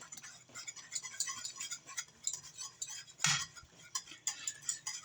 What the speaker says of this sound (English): And we're going to stir that all in.